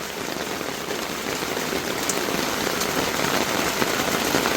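Steady rain pours onto an open rooftop in Bangladesh at the start of Bengali New Year, a dense, even patter that swells slightly louder over a few seconds, with no voices.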